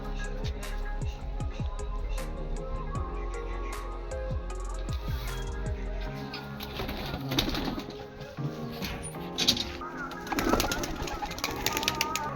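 Pigeons coo softly in low, repeated murmurs, with occasional rustles and brief wing flutters nearby, over faint background noise.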